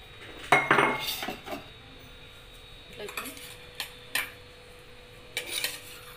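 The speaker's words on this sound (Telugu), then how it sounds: "జీడిపప్పు వేసి ఫ్రై చేసుకున్నాం." Cashew nuts tossed in a hot pan on a stove, metallic clinks and scrapes of a spoon against the pan in scattered bursts, close and moderately loud, with a faint hum beneath.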